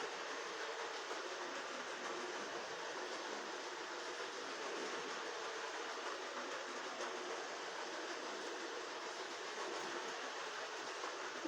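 A Lego City passenger toy train running, a steady, faint, even mechanical whir and rattle that holds without a break throughout, with no speech.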